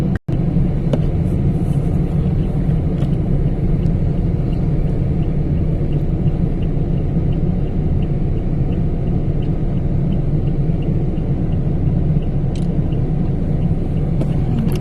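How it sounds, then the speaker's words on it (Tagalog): Steady road traffic rumbles past in the Makati area, a continuous low, dense drone of car engines with no break across the stretch. "Another traffic."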